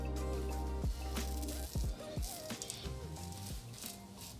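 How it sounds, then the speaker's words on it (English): Running water rinses a razor blade during wet shaving, with faint splashing and dripping in short uneven bursts. "rinse that out so I can have a nice clean blade"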